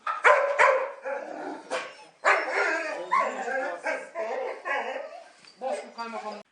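Search and rescue dog trained for disaster work at a rubble site, barking loudly and repeatedly in close, bursty volleys with short gaps and a few whimpering yips.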